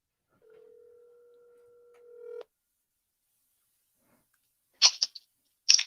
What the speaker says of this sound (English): And why don't we give her a call?